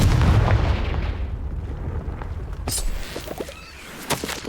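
Confringo blasting spell in the Hogwarts Legacy video game, a heavy booming explosion at the start that rolls off into crackling debris and scattered smaller pops.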